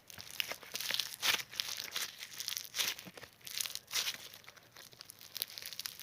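Crunchy slime being poked and squeezed up close, giving a steady run of soft crackling and crinkling pops with a quiet, intimate quality and no talking.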